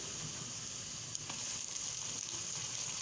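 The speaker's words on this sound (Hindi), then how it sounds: "ये देखें, ये हमारी चिकन इसके अंदर भून रही है" Chicken frying in a pan with browned onions for a stew crackles in a steady, even sizzle, with a couple of faint clicks of a utensil partway through.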